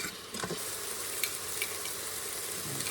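Garlic cloves sizzling in a pan during meal prep: a soft, steady frying crackle with light pops, fairly quiet and close, and no talking.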